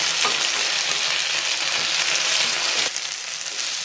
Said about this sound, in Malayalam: സവാള ഒന്ന് വാടി വരുമ്പോൾ ഏത്തക്കായും കൂടെ ചേർത്ത് കൊടുക്കാം. രണ്ട് 3 മിനിറ്റ് നന്നായിട്ട് വഴറ്റണം.